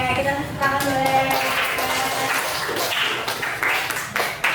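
A classroom group claps together during a teacher-training practice lesson in Indonesia, a dense patter of hand claps that is fairly loud and close and runs steadily across the whole stretch, with some voices mixed in.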